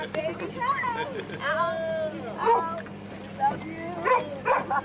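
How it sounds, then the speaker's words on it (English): A dog yips and barks in short excited bursts, some whiny and high, spread across several seconds amid low background chatter and room noise. "Even the dog, Shantae, that's Shantae barking."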